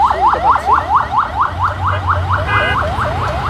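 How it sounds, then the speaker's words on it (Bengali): Wailing, rapidly repeating electronic siren at a road accident scene on a highway, cycling up and down about a dozen times in a steady rhythm, loud and close over a low rumble of traffic. "এটা একটা অ্যাম্বুলেন্সের আওয়াজ আমরা শুনতে পাচ্ছি।"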